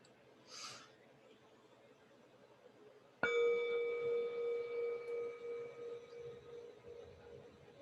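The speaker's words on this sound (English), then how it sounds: "I'm going to ring the bell to begin, and then invite you to just listen to that bell" A meditation bell rings once, a clear sustained metallic tone with steady overtones that lingers and slowly fades away over several seconds after a quiet start.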